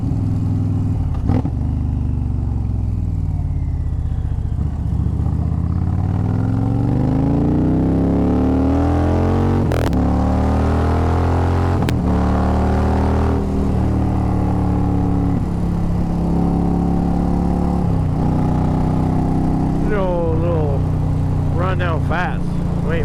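A motorcycle engine runs continuously while riding, with rising and falling pitch sweeps as it shifts through gears and accelerates, plus a few sharp clicks and some talking over it.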